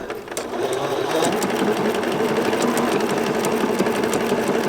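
A sewing machine runs steadily while stitching a table runner along its fold, a continuous close, even motor whir with rapid needle chatter that holds at the same pace from start to finish.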